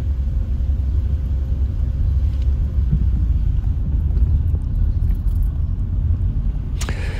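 Car driving through the village of Puigpunyent in Mallorca's Serra de Tramuntana, a steady low engine and road rumble from inside the vehicle, with a few faint knocks and a brief sharp click near the end.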